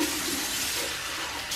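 Running water rinses a salicylic acid chemical peel off a face at home, a continuous hissing splash from a tap, close and steady throughout.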